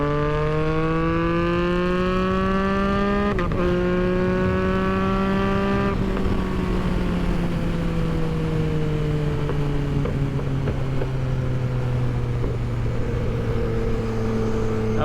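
A 2022 Yamaha XSR900 retro naked motorcycle sweeps past with a loud, steady engine note that climbs, then drops in pitch as it goes by and fades away, with no talk.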